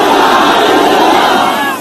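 A large crowd at a political rally in Peshawar roars slogans in unison, a dense, sustained wall of many voices close and loud throughout, with no individual speech standing out.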